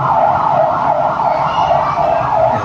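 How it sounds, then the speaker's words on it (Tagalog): A procession of ambulance sirens wails loudly and steadily, with the rising and falling tones overlapping as the vehicles pass close by, and no one talking over them. "may parada ng ambulansya"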